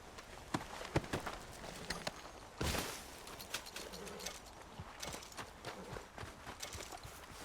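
Rhythmic horse hoofbeats in Red Dead Redemption 2 clip-clop steadily at a walking pace, fairly close, with a few brighter knocks and a brief burst of noise midway.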